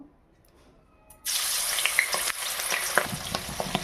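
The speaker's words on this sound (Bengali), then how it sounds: "এবার আমি হালকাভাবে এগুলোকে একটু ভেজে নেব" Hilsa fish pieces rubbed with turmeric, salt and chilli powder hit hot oil in a pan, a sudden loud sizzle after a quiet start, then steady crackling frying with a few sharp pops, no talk.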